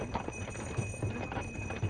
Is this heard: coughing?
no